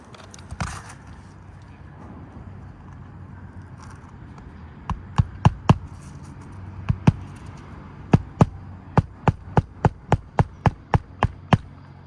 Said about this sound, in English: getting the hammer up high enough in order to swing it on our shingle here